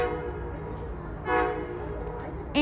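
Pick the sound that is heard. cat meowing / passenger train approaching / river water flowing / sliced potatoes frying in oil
passenger train approaching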